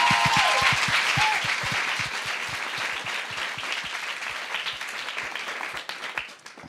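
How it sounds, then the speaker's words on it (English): Audience applause at a No Ceilings conversation about girls, with a crowd clapping steadily and close, sustained for several seconds and tapering slightly toward the end. "so please give her another round of applause."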